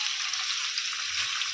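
Green chillies fry in a pan for a village-style chicken curry, a steady, even, bright hiss of hot oil. It stays close and constant throughout, with no talking.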